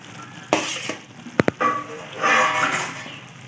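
Okra is stirred into a frying masala in a pan, with a soft background sizzle, sharp scraping strokes of the spoon, a couple of quick metallic clinks, and a louder rustling stir near the end.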